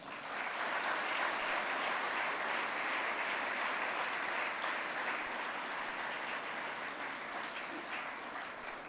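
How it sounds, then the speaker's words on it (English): Audience at a school valedictory ceremony in a large hall giving one long round of applause, a thick, even wash of clapping from many hands throughout. "can we put together one big round of applause?"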